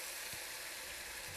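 Steady, bright sizzling of pureed onion and jalapeno frying in a hot pan, continuous and close, with no other sounds.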